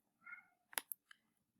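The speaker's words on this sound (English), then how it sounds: "She meowed at you guys." A house cat gives a short meow followed by a few sharp clicks and a faint second call, nearby in a quiet indoor room with no speech.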